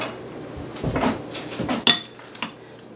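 Kitchen utensils clatter and clink while a masher is fetched from a drawer or cupboard: a few muffled knocks and rattles, then a sharp metallic clink and a softer one, close by with no talking.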